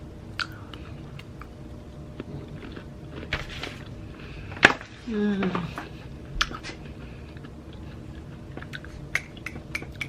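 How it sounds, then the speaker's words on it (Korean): Someone chews food softly and closely during a first meal of the day with seaweed soup after intermittent fasting. Faint crunchy bites and mouth sounds are broken by a brief hummed murmur. "역시 씹는 감이 주는 그 행복이 있어요"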